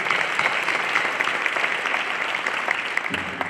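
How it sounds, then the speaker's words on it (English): Audience at a University City High School hall of fame ceremony gives the honorees a big round of applause: dense, continuous clapping from a crowd, fairly close and loud, holding steady throughout. "let's give our honorees a big round of applause for this momentous occasion"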